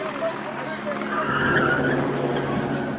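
Car tires squeal continuously as a vehicle spins donuts on a city street near a crowd at a street gathering, a sustained harsh screech with engine noise and crowd voices mixed in.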